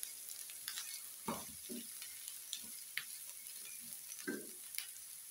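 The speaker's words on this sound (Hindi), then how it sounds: "इसे डाल के मिक्स कर लेंगे" Shredded boiled chicken, salted before boiling, mixed into a sandwich filling with soft wet stirring and scraping pulses. The pulses come irregularly, close and fairly quiet, with no talk.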